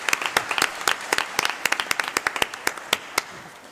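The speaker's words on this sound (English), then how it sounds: "I would like to ask you for a round of applause for these really great panelists for being here." An audience at a panel session on e-trade readiness applauds the panelists with a full, close round of clapping that runs steadily throughout, individual claps standing out in the dense patter.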